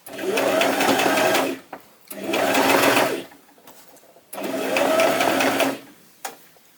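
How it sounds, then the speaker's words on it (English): A sewing machine stitches the facing seam allowance on a square neckline in three steady bursts of about one and a half seconds each, separated by short pauses. Each run is close and loud, with brief clicks between them. "Just make sure that you're pulling the seam allowance to where you're sewing, so you're sewing on the seam allowance and not on the bodice."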